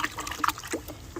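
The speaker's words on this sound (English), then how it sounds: "I just give it a good stir. Get those bubbles going." A brief burst of sloshing and trickling comes from liquid organic fertilizer being stirred in a container to froth up bubbles, heard close up with no talking.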